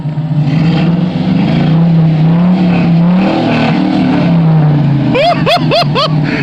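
An LS-swapped 5.3 V8 in a G-body car idles loud and close with a steady low rumble, then snaps through several quick revs near the end.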